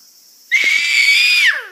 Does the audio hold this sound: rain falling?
no